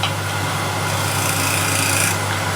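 A hand scraper rasps lightly over a curved wooden surface, blending the curve and raising fine dust, a steady close scratching texture heard alone without a break.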